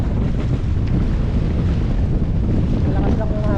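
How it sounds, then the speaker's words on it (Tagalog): Strong wind roars steadily across the microphone on a seashore where people are surfing, a loud, constant rumble with the wash of the sea mixed in and no break. "Malakas yung hangin"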